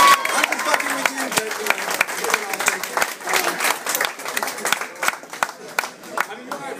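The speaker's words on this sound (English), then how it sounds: "can we get a round of applause for this girl right here?" Audience applause for a girl in the crowd at a stand-up comedy show at Hightopps, with loud, dense clapping that thins toward the end, mixed with crowd voices and chatter.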